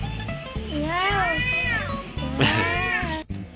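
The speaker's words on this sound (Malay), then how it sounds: "Burung ni yang bunyi miau tadi" Cattle egret giving meow-like calls at a rural resort in Taiping, Perak, two drawn-out nasal wavering cries close by, with other sounds of the outing underneath.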